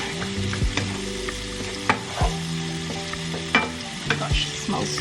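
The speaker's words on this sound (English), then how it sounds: "I'm going to let this saute" Peppers with garlic powder and onion powder sauté in a pan in a home kitchen, a steady sizzle broken by repeated scraping stirs of a utensil, close and clear with no talking.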